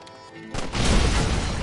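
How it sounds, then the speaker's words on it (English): A sudden loud crash-like explosion bursts in after a quiet moment and rumbles on heavily, with deep booming noise filling the rest, in the video game Red Dead Redemption. "Yeah! Explosions."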